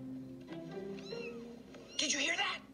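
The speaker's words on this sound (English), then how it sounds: "We heard the meow." A cartoon kitten gives a few short, high meows, close and clear, followed by a brighter, louder squeal near the end, with a voice faintly present beneath.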